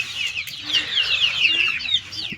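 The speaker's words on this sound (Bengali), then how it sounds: "আর এই যে পলিশ ক্যাপ," Polish cap chickens cluck in a farm yard, a close run of repeated clucks and chirpy calls over about two seconds.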